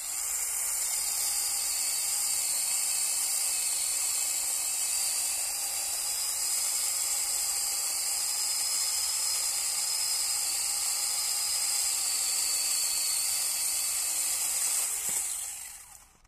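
Onevan cordless mini chainsaw cutting through wood, a steady high-pitched whining buzz held evenly for about fifteen seconds before winding down at the end, with no talking.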